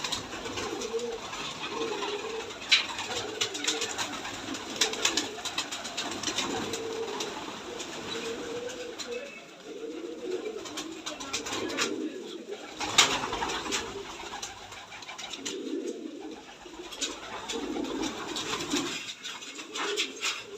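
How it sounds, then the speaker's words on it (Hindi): Pigeons at a water dish, with continuous soft cooing from several birds close by alongside faint scuffles and light clicks over about twenty seconds. "अभी ये कबूतरों को पानी डाला है, ठीक है, ये पी रहे हैं"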